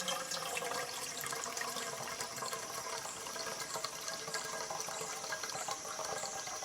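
Water being collected for drinking on an outdoor water walk, a steady, faint wash of running and splashing liquid that continues evenly with no pauses and no talking.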